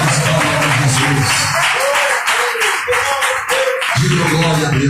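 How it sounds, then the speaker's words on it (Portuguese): A church congregation claps for Jesus during a service, giving sustained, dense applause. Voices sing or call over it, with a loud voice breaking in near the end. "Pode esperar as palmas para Jesus"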